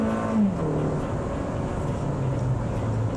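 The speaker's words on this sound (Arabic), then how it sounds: "خليني أحاول أتسارع بالسيارة أكثر" A car accelerates as heard from inside the cabin, a low engine drone with a rising then steady tone under constant wind and road noise, no voices.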